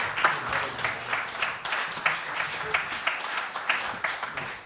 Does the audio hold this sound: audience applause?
yes